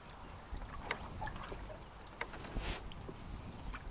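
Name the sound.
slow paddling of a canoe around an island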